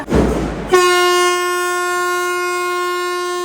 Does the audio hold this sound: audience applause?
no